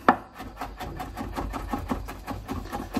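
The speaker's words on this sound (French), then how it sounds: "On va hacher tout ça finement." A knife finely chops sauce tartare ingredients on a board, giving a quick, steady run of close, crisp strikes at an even rhythm with no talking.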